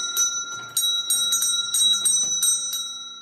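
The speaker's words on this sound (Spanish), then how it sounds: "en ese momento, sonó el timbre." A doorbell in an office sounds a quick series of bright metallic chimes, repeating rhythmically and ringing close and clear with no voices over it.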